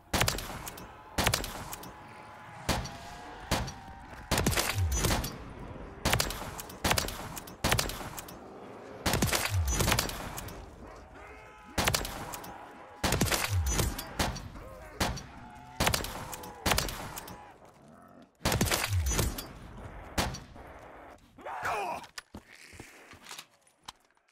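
Slow, heavy gunfire from a video game weapon, single loud shots spaced a second or two apart in a steady rhythm, each followed by a mechanical clack, with brief pauses between bursts.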